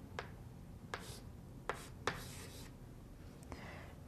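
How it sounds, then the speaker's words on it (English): Faint, close scratches of a pen or pencil writing numbers by hand on paper, a few short strokes and taps spaced irregularly over a quiet room hiss, with no talking. "we're going to write these values down"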